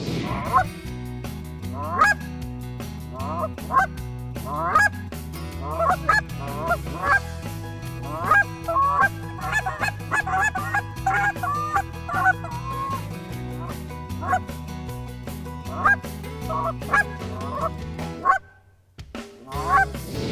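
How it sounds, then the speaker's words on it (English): Canada geese on a shore honk repeatedly in a noisy, overlapping flock, loud and close, before the calls briefly drop out near the end. "the Canada geese and the ducks that we have here on the shore"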